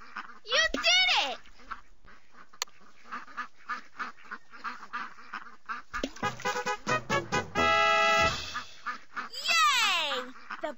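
In an animated Dora the Explorer cartoon, a voice speaks in short bursts between scattered quacks from ducks and ducklings, with a few longer honking, quacking calls that rise and fall.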